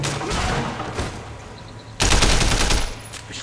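Gunfire in the action game Sleeping Dogs: rapid bursts of automatic shots, one loud concentrated volley in the middle after a scattered opening stretch, with no talking.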